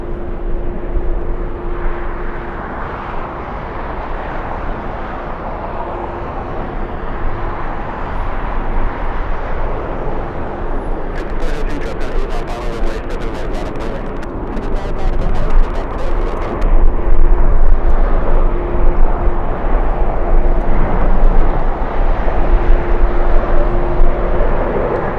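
A United Boeing 737-800 arriving from Las Vegas lands at LAX in strong winds, its jet engines a loud, sustained roar with a rising rumble toward the end, heard from close by along with gusting wind.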